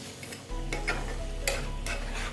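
Fried lentil dumplings (bori) go into a sizzling pan with drumstick pods (sojna data), giving a steady close frying hiss with a few quick stirring scrapes.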